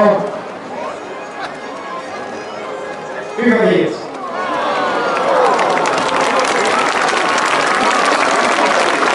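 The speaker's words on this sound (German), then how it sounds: "Die mit 98 Stimmen gehen wir mit einem Applaus verabschieden." Crowd applause at a Miss pageant during an alpine folk festival in Lenk, rising after an announcer speaks and holding steady with chatter mixed in.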